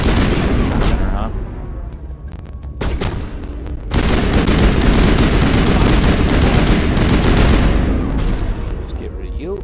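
Gunfire in the video game Mass Effect Legendary Edition, dense bursts of loud shots and booming impacts in a chaotic firefight, with voices talking over the combat.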